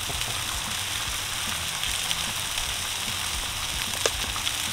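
Bacon and onions fry in bacon grease outdoors, giving a steady, even crackle and hiss throughout with a few faint pops.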